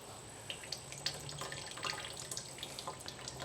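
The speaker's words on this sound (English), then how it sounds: "There's a few little drops of water coming out the bottom, which I expected" Water drips from the bottom of a homemade rain water collection system, a scattering of small irregular drops and trickles, close by over a faint steady background hum.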